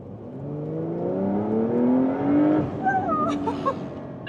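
A facelifted Porsche 911 Carrera S engine pulls smoothly upward in pitch as it accelerates, heard from inside at moderate loudness, before easing off into a faint crackle and whir.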